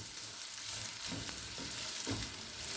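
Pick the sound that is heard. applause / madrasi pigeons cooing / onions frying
onions frying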